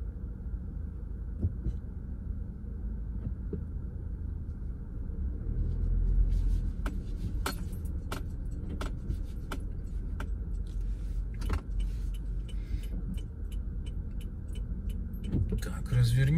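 A car drives along Bustleton Avenue in Northeast Philadelphia and turns around, with a steady low road rumble inside the cabin and a run of regular ticking clicks partway through.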